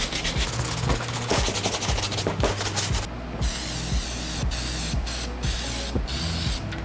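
Mink spray hissing onto suede sneakers during a restoration of Jordan UNC 6s, a steady close aerosol stream broken by several short gaps and bursts, with no talking.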